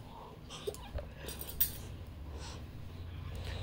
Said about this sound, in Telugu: సో ఇలాగ మనం కలుపుతూ ఉండాలి, లేకపోతే అడుగు పట్టేస్తుందండి